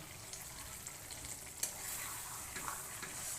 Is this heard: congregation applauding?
no